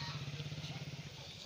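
A motorbike engine idles nearby in a short burst, a faint, low, steady throbbing hum with no talking over it.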